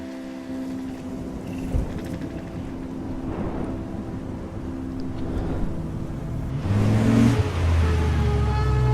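Car driving in the video game Life is Strange, a steady rumbling engine and road noise with a swell of louder low rumble toward the end, no talk.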